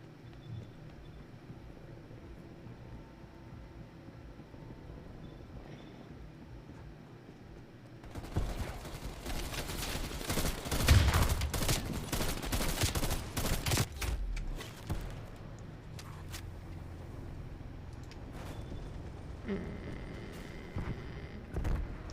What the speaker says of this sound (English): Multiple enemy sentry turrets active.